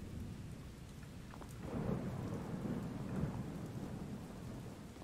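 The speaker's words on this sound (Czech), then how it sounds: "Prší." Steady rain with a low, rolling rumble of thunder in the Blair Witch video game, soft and continuous, with the thunder swelling briefly in the middle and no voices.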